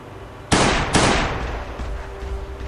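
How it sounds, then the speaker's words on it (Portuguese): Two sharp gunshots fire about half a second apart while shooting a zombie in the survival game Last Day on Earth, each crack loud and near with a decaying tail, followed by a low background hum. "Daqui já tô atirando o primeiro zumbi"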